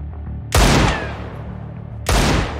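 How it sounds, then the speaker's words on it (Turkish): Gunfire in the video game Limon Harekat, two loud close bursts of shooting about one and a half seconds apart, each with a sharp attack and a booming tail. "Dışarıdan sıkıyorlar."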